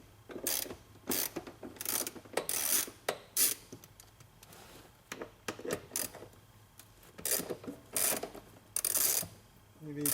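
A wrench clicks on a 13 mm bolt of a classic Volkswagen shift rod, giving bursts of close ratcheting with short pauses in between.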